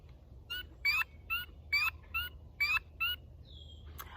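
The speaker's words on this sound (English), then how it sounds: "I want you to listen for the banjo-like sounds of our green frogs, which actually I can hear in the background now." Frogs call on a farm at night, a rapid series of about eight bright, rhythmic clucking pulses repeating close by, followed by a higher whistle and a soft click over a quiet low hum.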